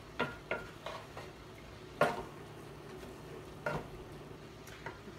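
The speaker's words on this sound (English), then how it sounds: "Our stir fry is stir frying." A stir fry cooks in a pan with a soft sizzle, broken by a few sharp clacks and scrapes of a utensil stirring the food, fairly close and quiet.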